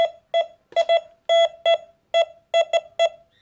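A series of short electronic beeps from a Visua VSEZMD metal detector in an uneven rhythm, about a dozen tones with pauses between, fairly loud and close with no talking.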